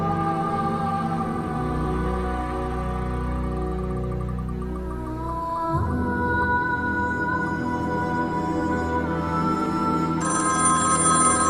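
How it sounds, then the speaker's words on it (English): A telephone rings repeatedly with a bright, electronic trilling tone, loud and steady, shifting pitch pattern partway through, with no voices over it. "The phone rings,"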